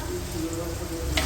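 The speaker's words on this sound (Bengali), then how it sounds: "এইবার মাটনটা দেবো। এই যে মশলাটা পুরো কষানো হয়ে গেছে।" Spices for mutton curry sizzle and fry steadily in a wok, a constant close crackle with a brief scrape of stirring near the end.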